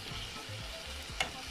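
Onion and tomato masala sizzles steadily in a hot pan for Kerala-style rajma curry, with low stirring scrapes and one sharp clink of the utensil near the end.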